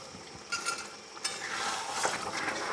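Pressure-cooked mutton pieces go into a hot pan of curry base and are turned over and stirred hard, with a soft sizzle and metal utensil scrapes and clinks rising after a quiet start.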